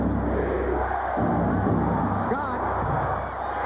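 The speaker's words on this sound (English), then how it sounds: "Crowd is in it for one of the few times today." A 1995 NBA playoff basketball arena crowd, Knicks against the Pacers, roars with a steady, dense wall of cheering and hubbub throughout, sustained and loud with slight swells, as if heard from courtside.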